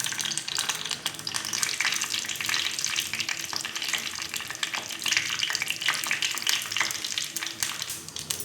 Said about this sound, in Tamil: கடுகு பொரிஞ்சு வரும்போது நறுக்கின சின்ன வெங்காயம்